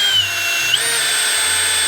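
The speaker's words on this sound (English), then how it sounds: "we just gotta drill another hole. Right there. I'm gonna drill a hole." An electric drill runs steadily, boring a hole while working on a mount that hangs down slightly; a continuous whine shifts pitch partway through, loud and close with no talk.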